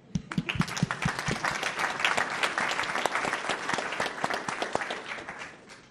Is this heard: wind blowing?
no